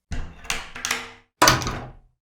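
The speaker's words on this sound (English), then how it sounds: "They locked all the doors" Heavy doors shut and locked in a room where a group of disciples gather, heard as four solid thunks, three in quick succession and then a louder, longer slam after a short pause, close and clear with no voices.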